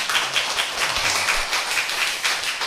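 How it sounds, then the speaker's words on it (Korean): A Seventh-day Adventist congregation in Korea claps as a group at Sabbath school, a dense and continuous patter of many hands at moderate loudness, with no voices over it. "해주셨는데 한 번 더 박수."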